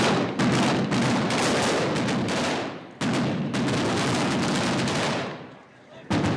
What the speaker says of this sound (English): Another firefight begins.